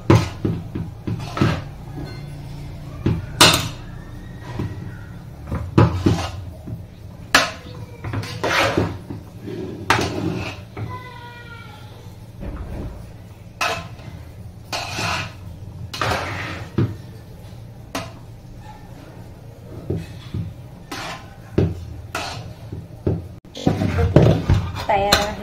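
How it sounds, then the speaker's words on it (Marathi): Chakli dough is mixed by hand in a metal vessel: irregular knocks, clanks and scrapes of the container, close and fairly loud, scattered unevenly with short quiet gaps between them. "होईल तेवढं असं व्यवस्थित मिक्स करून घ्यायचं त्याला"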